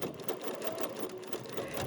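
A sewing machine micro stippling a crazy quilt block at a short stitch length, a steady fast rattling hum of needle strokes, close and fairly quiet, running on its own.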